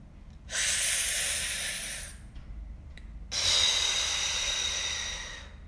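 A person takes two long, deep, airy breaths up close, each a sustained hissing rush of air with a short pause between.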